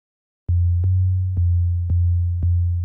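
Sub bass from an Equator2 wavetable synth, a steady low sustained tone retriggered in about five even notes, loud and alone with no talk.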